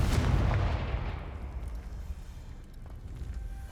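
Confringo fire spell from the video game Hogwarts Legacy detonating in one sharp booming blast, loud and close, its rumble fading away over a few seconds.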